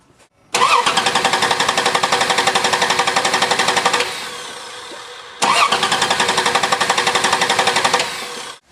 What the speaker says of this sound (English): I've disabled the engine so that it won't start, and you can see what the pistons will generate as far as vacuum goes when it's cranking.